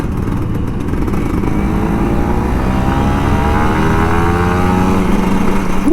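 A Kawasaki Ninja RR 150 motorcycle revs hard on a morning ride to work, a loud close two-stroke engine note that climbs steadily in pitch as it accelerates, with no talking over it.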